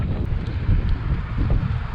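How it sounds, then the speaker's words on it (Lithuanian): Wind gusts buffet a microphone while cycling on a road along the Baltic coast, a loud, uneven low roar that swells and eases in quick pulses. "vėjo gūsiai tokie, tave tik šna į šoną"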